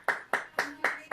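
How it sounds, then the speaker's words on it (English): Five sharp, evenly spaced hand claps ring out after a live cello student recital, steady and fairly close, with no talking over them. "Round of applause again."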